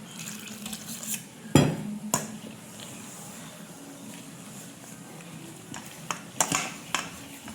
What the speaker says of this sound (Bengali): পাটিসাপটার গোলা এই যে গুলে নিতে।